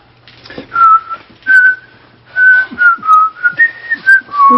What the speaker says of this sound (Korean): 휘파람 좀 그만 부세요.